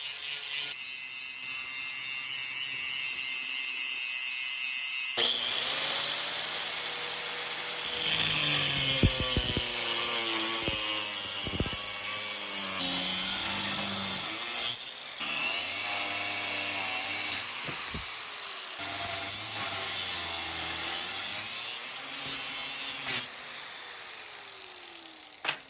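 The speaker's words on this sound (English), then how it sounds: "I grind the forge scale off the bar and cut it into 5 pieces." Grinding and cutting a forged Damascus steel bar into five pieces for a chef's knife, a steady abrasive whine with shifting pitch, loud and continuous, with harsher bursts as the tool bites the steel.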